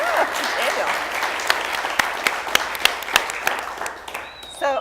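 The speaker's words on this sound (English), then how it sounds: "So give a big round of applause to Daniel" Audience applause greets a guest speaker at a Startup Grind Tampa evening event, steady clapping from a room of people with sharper individual claps standing out, tapering off near the end.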